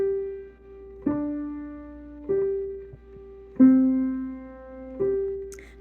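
Gentle left-hand piano pattern from a song, played alone at a slow, even pace: soft low notes struck about once a second, each ringing and fading before the next, with no talking.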